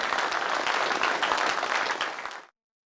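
Applause from a church congregation during an afternoon sermon, a dense, steady wash of many hands clapping together that holds evenly for over two seconds and then stops abruptly.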